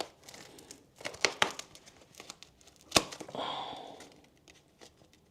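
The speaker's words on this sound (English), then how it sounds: "So I'm gonna take the scissor here. I'm gonna just cut about that much" Scissors cutting door insulation material, with crinkling snips, a few sharp cuts and rustling handling noises in an otherwise quiet room.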